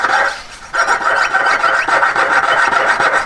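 Hand cutting along drawn lines in a symmetry practice piece makes a loud, close, rasping saw-like rhythm of rapid repeated strokes, a brief pause near the start, then steady back-and-forth cutting with no talk.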